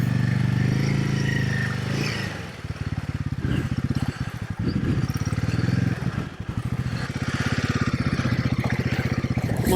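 A Royal Enfield Himalayan 452 motorcycle idles loudly and close while standing in a river, its steady rapid engine pulse and exhaust chugging with small rev changes and clattering.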